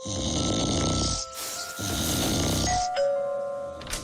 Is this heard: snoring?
yes